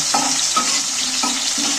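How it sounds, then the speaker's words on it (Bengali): Tomato and green chillies fry in oil, a bright dense sizzle with a few rhythmic stirring scrapes against the pan, loud and close. "এইটাকে আমি একটু টমেটোটাকে ভেজে নেব টমেটো কাঁচা লঙ্কা সবই ভাজা হয়ে যাবে"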